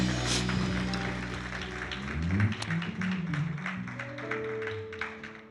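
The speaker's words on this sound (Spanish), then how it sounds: "¿Cuántos pueden darle un fuerte aplauso al Señor?" Church congregation applauding during a worship service, clapping under lingering music and a held tone, moderately loud and continuous, with brief voices mixed in.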